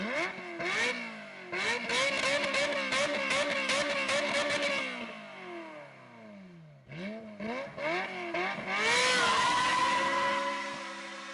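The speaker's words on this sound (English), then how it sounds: "it is just that perfect high pitch wailing revving noise" A Ferrari 355 engine revs repeatedly with a high-pitched wail, climbing and falling through several loud bursts heard close and alone.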